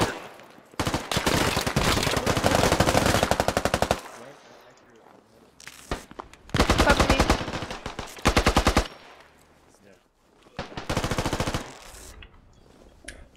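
Automatic rifle fire in the military shooter Squad, USA versus Insurgents: three long, loud bursts of rapid shots, separated by quieter gaps with faint background rumble.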